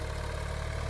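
A Massey 260 tractor engine runs steadily with a continuous low, throbbing drone, close and even across the whole moment with no talk.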